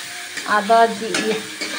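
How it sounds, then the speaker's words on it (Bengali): Garlic frying in a pan alongside onion paste and tomato, a steady close sizzle broken by a few scraping, ringing stirs of the spoon against the pan. "এবার রসুনটা ভাজা ভাজা হয়ে গেলে"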